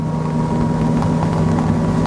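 An XO 260 DSCVR motorboat engine drones at a steady high pitch, running flat out at about 40 knots without letup, with some wind rushing across the microphone.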